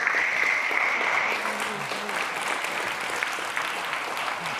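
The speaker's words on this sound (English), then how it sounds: "So I feel like just that deserves a round of applause." Audience applause at a React Advanced developer conference talk, a sustained wash of many hands clapping, steady and moderately loud throughout, with a faint tone fading early on.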